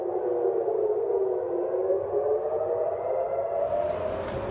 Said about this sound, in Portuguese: Pela primeira vez, as sirenes tocam na iminência de um ataque de mísseis.